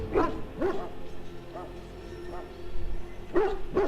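Mabari war hound in Dragon Age Origins giving short yips and barks, about six separate bursts spread irregularly, close and fairly loud with a voice talking alongside.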